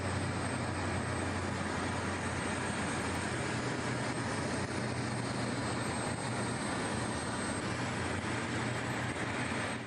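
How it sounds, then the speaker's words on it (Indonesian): Two F-15 fighter jets pass over the Fort Bragg military base, a loud, continuous broadband roar that stays steady and sustained for about ten seconds. "diakhiri 2 jet F-15 yang melintas di atas pangkalan militer Fort Bragg"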